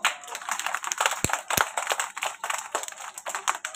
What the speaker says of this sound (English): Clap your hand.